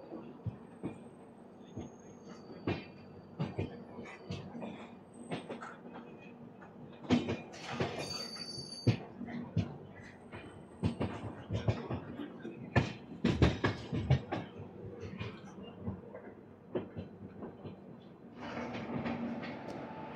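Korba Express departing Visakhapatnam railway station, with rail clatter, clicks and a low rumble building as the train rolls, scattered sharp knocks and a rising hiss near the end, heard from on board.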